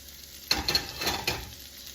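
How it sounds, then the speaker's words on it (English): Mirepoix vegetables dropped into sizzling butter in a pan, a burst of frying crackle starting partway in with a few stirring scrapes, close and moderately loud, no talk. "Our butter is sizzling up,"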